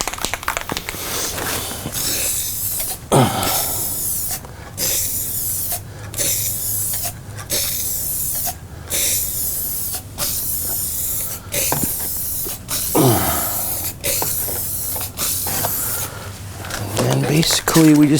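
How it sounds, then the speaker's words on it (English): Aerosol spray paint hisses in repeated bursts along the bottom edge of an arcade cabinet being restored, close and loud, with short pauses between passes and people talking over it. "then we'll spray paint the bottom edge here"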